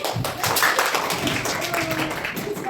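Children in a school classroom clap for a team reaching the semi-final of a quiz contest, a steady patter of small hands close by for the whole stretch, with no speech over it.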